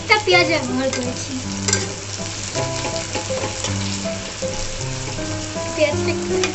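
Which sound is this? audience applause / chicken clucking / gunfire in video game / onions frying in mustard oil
onions frying in mustard oil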